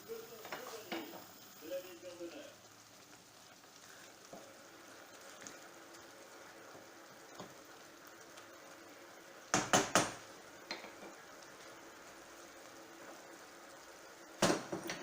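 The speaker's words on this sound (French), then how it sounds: "je vais casser les œufs sur ma préparation" Eggs crack onto a simmering Basque piperade in a pan: a few sharp, close cracks and clinks come in short clusters over a quiet kitchen background with soft cookware sounds.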